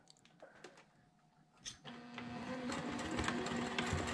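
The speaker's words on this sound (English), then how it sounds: "do a little bit of back stitching" A sewing machine back stitching on quilt fabric for a mitered border, starting with faint clicks and a brief whir, then settling into a steady, close mechanical hum with rapid needle ticking.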